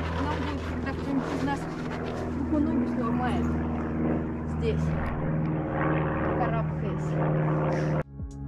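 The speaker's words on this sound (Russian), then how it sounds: "Это самолет." An airplane passes overhead in a snowy outdoor setting, giving a steady, continuous engine drone that holds for several seconds while people talk over it, then cuts off abruptly near the end.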